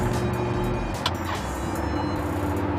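A Lamborghini cruising at regular speed, about 5,000 RPM and around 60, with a steady, loud engine and road drone throughout, heard from inside the cabin.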